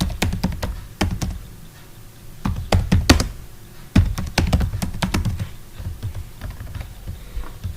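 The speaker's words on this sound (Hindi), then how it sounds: "इसको कंट्रोल के साथ मैं निकालता हूँ और यहाँ पे टाइप करते हैं ऑथराइज सिग्नेचर" Computer keyboard typing while entering text in MS Word: clusters of sharp, close key clicks come in uneven bursts, with brief pauses between runs and no speech over them.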